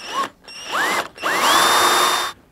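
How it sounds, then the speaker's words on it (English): A power drill whines in short bursts while drilling a 2.5 mm pilot hole through a metal plate during a Warn 8274 winch rebuild, rising in pitch as it spins up, then running steadily for about a second before stopping. "Make sure that plate doesn't move when you're drilling the hole through."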